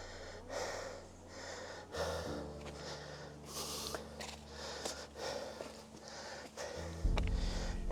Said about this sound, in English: I'm heavy panting.